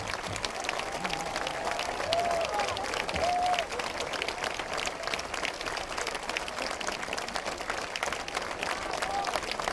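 Concert audience applauding at the close of a show in Kadriorg, a steady dense patter of clapping throughout with a few faint cheers and whistles, heard at some distance.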